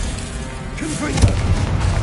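A Confringo fire spell explodes in the video game Hogwarts Legacy, a single dull boom with a low thud near the middle of the clip. It sits over a steady game bed, with a voice faintly present around it.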